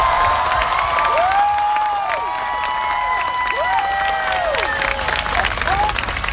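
A crowd at an outdoor political rally at Thammasat University applauds steadily, with cheering and shrill whistles sliding up and down over the clapping, loud and close throughout.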